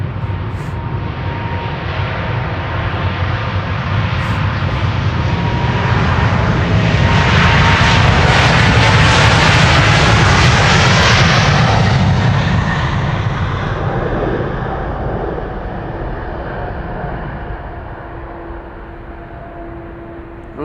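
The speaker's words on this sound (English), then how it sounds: "There was also a 777 that left from the center runway just now." A Boeing 777 jet departing from the center runway at Amsterdam Schiphol, a loud, broad engine roar that swells to a peak midway and then slowly fades as the aircraft climbs away, with no talking.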